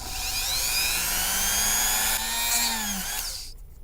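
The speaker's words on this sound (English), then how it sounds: "the rest I'll just sand down" A high-pitched rotary tool bit whines steadily while sanding down a sculpture, a continuous loud drilling buzz with a slight pitch drift that cuts off abruptly near the end.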